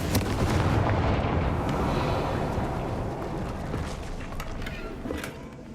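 A Confringo fire spell explodes in Hogwarts Legacy with a loud, continuous roaring blast that rumbles throughout and slowly fades, with no voices.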